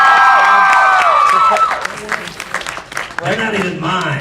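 A convention panel audience at AFO 11 breaks into applause with some cheering and whoops, a crowd sound heard under and between a man's joking speech.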